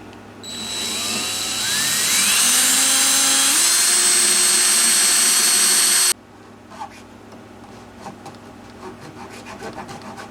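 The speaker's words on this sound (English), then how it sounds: "I'm going to start with a pilot hole." A power drill whines steadily, its pitch climbing as it spins up and bites into chippy wood drilling a pilot hole in a guitar neck, then cuts off abruptly, leaving quiet room noise.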